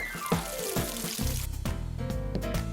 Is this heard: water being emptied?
yes